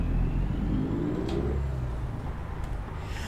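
Truck engine in Euro Truck Simulator 2, a low steady rumble that revs slightly, set fairly low in volume and alone.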